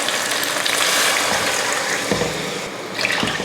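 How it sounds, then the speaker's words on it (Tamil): Water poured into a cooking pot with rice for vegetable potato-peas pulao, a steady close gushing and splashing stream that runs throughout, easing slightly near the end. "அதுக்கு வந்து தண்ணி சேர்த்துருவோம்"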